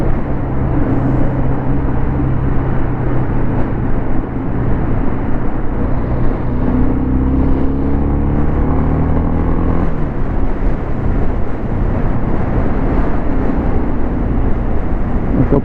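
A BMW F900R motorcycle rides along a road without a quickshifter, its engine droning loud and close under steady wind rush, with pitch rising and falling as the rider works through gear changes.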